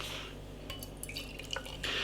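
Colonial Pale Ale beer from Colonial Brewing Company pours out of a can, with a close, soft liquid trickle, fizzing and small drips against glass.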